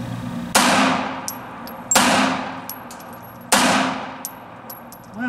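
S&W Shield 380EZ pistol rounds striking steel targets outdoors: three sharp metallic clangs spaced over a second apart, each with a bright ringing tail that slowly fades, plus a few fainter pings between.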